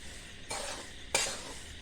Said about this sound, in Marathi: ते पूर्ण तीनशे ग्रॅम तेल आहे ते ह्याच्यात घालून भाजत भाजत जायचं जायचं आहे आपल्याला